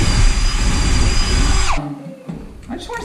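A power drill bores with a drill bit while a vintage 1977 Wilton bullet vise is being installed. It gives a loud, steady, close whine for nearly two seconds, then stops, leaving quieter handling and rattling noises.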